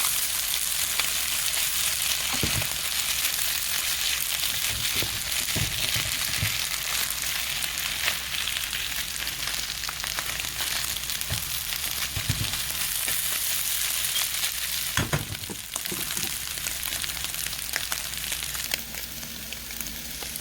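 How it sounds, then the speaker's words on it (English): Eggs scrambled with potato and ham sizzle steadily in a pan, a constant frying hiss with occasional soft scraping and stirring knocks, close and fairly loud with no talking. "I just started to fold the potato and ham into the egg and just move it around until it was all mixed together and scrambled up"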